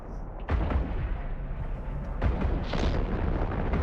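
Ship weapons fire in a space battle in EVE Online, heavy booming shots landing in a few distinct bursts over a continuous rumbling bed, loud and close, with no talking.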